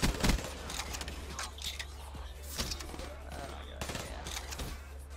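Rapid gunfire from an HLX weapon in Black Ops 3 Search and Destroy, quick fast-firing bursts and scattered shots at moderate loudness, with a voice talking over the action.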